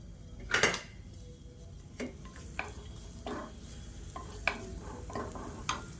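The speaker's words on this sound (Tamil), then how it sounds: "எண்ணெய் சூடானதும் 3 துண்டு பெருங்காயம் சேர்த்துக்கலாம்" Three pieces of asafoetida land in hot oil in a kadai with a faint, steady sizzle. Sharp clinks of a metal spoon against the pan come every second or so, close and distinct.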